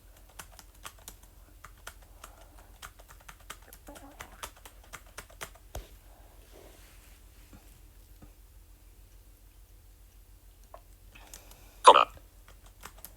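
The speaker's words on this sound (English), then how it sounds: "I'll just type this and then I'll read what I've said." Computer keyboard typing, a steady run of light, quiet key clicks spread through the passage, with one louder clatter near the end and no talking over it.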